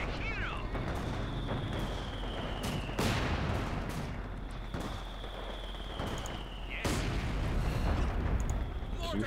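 Gunfire and artillery in the Company of Heroes 2 video game form a dense, continuous battle din, with heavy booming blasts at intervals and steady rattling shots throughout. Faint voices are mixed in beneath the combat.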